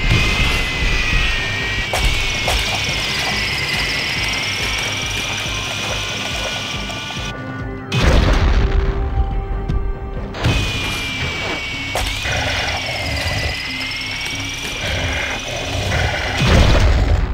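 The Cerebral Bore from the Turok shooter whirs and grinds with a loud, mechanical ratcheting drone, a high whine over clanking gears that cuts out briefly and resumes, capped by heavy thumps.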